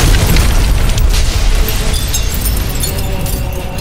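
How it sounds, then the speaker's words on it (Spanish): A heavy gunshot from an assault weapon reverberates inside a tower, its loud rumbling echo filling the space and decaying slowly. "Un disparo y el eco de la detonación retumbó en toda la torre."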